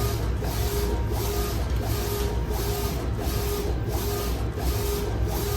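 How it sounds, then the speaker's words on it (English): A printer runs while printing a hockey picture, giving a steady mechanical whir with regular rhythmic pulses roughly every half second, close and uninterrupted. "Just about finishing that one, and then it'll start printing these ones."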